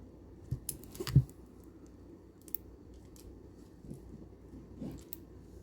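Scissors snip through old string, a few sharp clipping cuts close and quiet in an otherwise calm room, with scattered soft handling noises between them.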